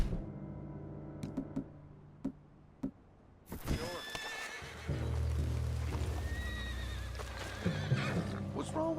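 A horse whinnies in the Red Dead Redemption 2 western game world, a loud close neigh following a few hoof clops, then heavier hoofbeats and movement continue under game sounds.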